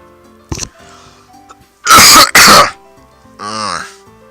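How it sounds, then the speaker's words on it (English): A short coughing fit: a small throat clear, then two loud harsh coughs close together, followed by a rougher strained exhale. "Excuse me while I have a coughing fit."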